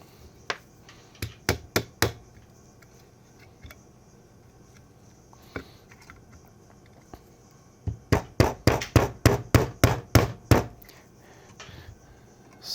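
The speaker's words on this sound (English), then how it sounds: "We're gonna see if we can't tap that out with our hammer." Hammer taps on a steel punch driving a pin out of a Glock 17/19 Gen 3 lower frame: a few spaced sharp strikes early, then a fast run of about a dozen close, crisp metallic knocks.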